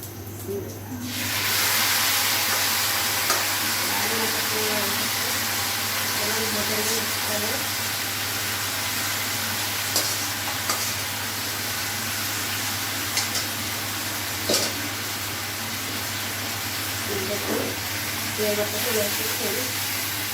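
Chicken sizzler crackling on a hot plate, with a loud, continuous hiss and sizzle that starts abruptly and holds steady, with faint talk in the background at times.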